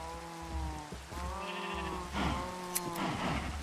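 Sheep bleat in a video game, several drawn-out, wavering bleats in succession over a quiet background, moderately close and alone without talk.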